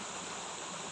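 A river flowing steadily, a continuous broadband rush of running water close by with no pauses, heard alone without voices.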